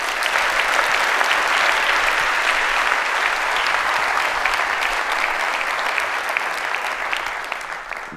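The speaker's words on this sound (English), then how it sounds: "one big round of applause, hopefully, for our team that make all of this happen" At a keynote event, a large audience applauds the event team for about eight seconds. Thick, sustained clapping stays loud and steady, then tapers off slightly near the end, with no speech over it.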